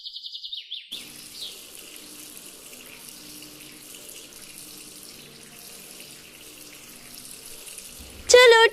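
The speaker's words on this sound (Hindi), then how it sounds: "चलो टब के अंदर तो पानी भर गया है" Tap water runs steadily into a baby bathtub in a village home, a continuous hiss that ends with a louder clatter, with faint bird chirps at the start.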